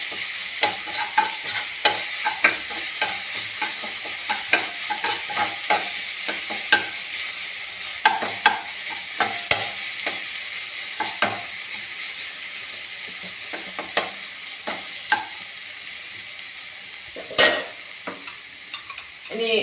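Egg and green peas podimas stirred in a pan with chilli powder and chicken masala, about twenty seconds of continuous close sizzling. Frequent quick spatula scrapes and taps run over it, with no talking.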